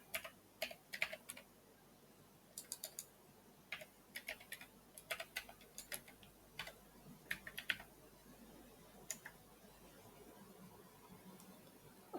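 Quick, uneven keystrokes on a computer keyboard as the ipconfig/all command is typed, a flurry of close, soft clicks in short bursts that thin out toward the end, with no voices.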